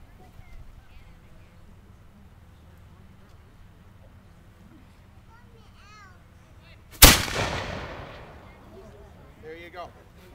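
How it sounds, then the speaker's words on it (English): A flintlock gun fires one loud, sharp blast partway through, and its echo decays over several seconds. Quiet outdoor background and faint voices come before and after the shot. "When I'm ready to fire, I just open up the pan."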